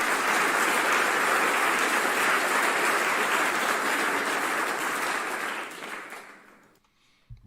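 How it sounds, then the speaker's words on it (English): A dense, steady round of applause from a crowd holds strong for about six seconds, then thins and fades away to near silence. "Round of applause."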